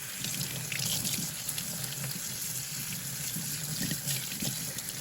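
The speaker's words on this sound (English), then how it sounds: "I'm gonna quick rinse all these off" Tap water splashing over plastic aquarium plants rinsed in a sink, a steady hissing stream with uneven spattering as the plants are turned under it.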